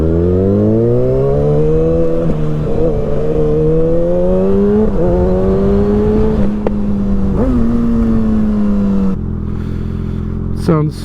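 Kawasaki ZX6R motorcycle fitted with an M4 GP19 exhaust, ridden with a loud, rising engine whine that climbs through the gears with brief dips at each shift before dropping to a lower drone near the end.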